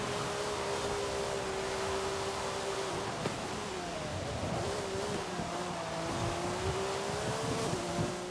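Koenigsegg race cars in Forza Horizon 5 drone continuously with high engine whine that rises and shifts pitch, mixed with steady wind-like roar and no voices.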